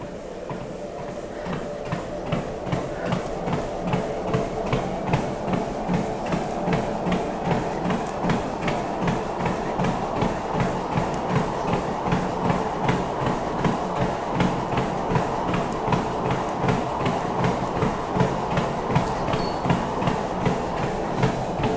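A LifeSpan TR2000e treadmill at 6 mph, its motor humming steadily beneath a fast, even thud of jogging footfalls on the belt, close and continuous with no talking.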